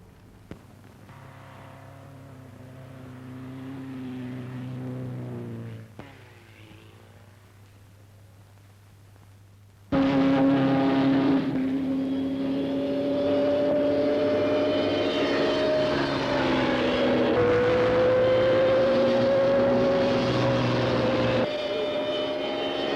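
A race car's engine at Brooklands builds from a quieter running note, cuts out, then bursts into a loud full-throttle roar with sustained rising and shifting engine tones that hold for over ten seconds.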